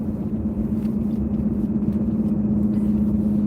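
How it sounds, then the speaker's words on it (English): A faulty car engine drones steadily inside the cabin, a loud continuous low hum with a strong fixed tone and rumble that never lets up. "this damn annoying ass engine or whatever the hell's wrong with this damn car"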